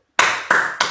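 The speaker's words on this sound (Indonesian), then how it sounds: "kakak akan mengajarin tepuk anak hebat" Three sharp claps in a quick rhythm, each ringing briefly, as children at an online Sunday school lesson follow a teacher leading the "tepuk anak hebat" clap chant. No one talks.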